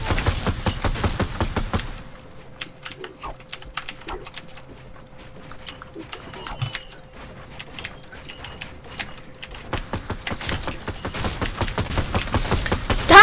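Rapid gunfire in a video game: dense, fast clicking shots rattle steadily at moderate loudness, thinning out in the middle and picking back up toward the end.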